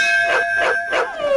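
A dog howls inside a temple sanctum, three drawn-out wavering howls rising and falling in quick succession, close and fairly loud with no voices.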